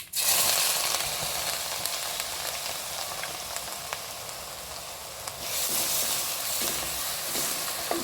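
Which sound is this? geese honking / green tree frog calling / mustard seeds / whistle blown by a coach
mustard seeds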